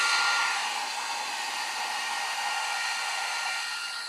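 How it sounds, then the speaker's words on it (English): Heat gun blowing steadily over a UV resin bookmark, a continuous close airy hiss holding level for about four seconds with no talk. "I'm going to go ahead and get my heat gun out, and I'm going to"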